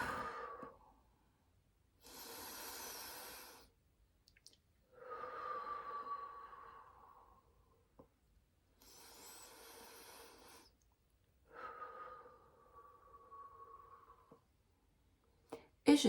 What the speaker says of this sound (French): Je fais quelques respirations